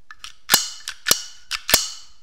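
A GP35 replica 8 mm blank pistol is handled, giving about six sharp metallic clacks in quick uneven succession, close and crisp.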